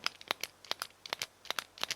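Clicks of a new ballpoint pen, a rapid run of about a dozen sharp, close plastic clicks in uneven pairs, with no talk over them.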